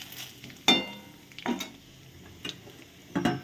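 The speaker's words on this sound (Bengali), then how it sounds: "এবার আমি এই তেলের মধ্যে একটু সর্ষের তেল দিয়ে দিচ্ছি। আমি ফোড়নের জন্য দিচ্ছি কালো জিরে" Black cumin and bay leaf tempering in hot mustard oil for a fish and cauliflower curry, four short bursts of sizzling and spatula scraping spaced over a quiet background hiss.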